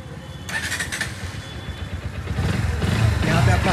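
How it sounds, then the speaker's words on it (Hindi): A Bajaj Pulsar NS125 motorcycle idles with a steady low exhaust rumble that swells louder toward the end, heard up close with some background noise. "थोड़ा एग्जॉस्ट साउंड सुनते हैं"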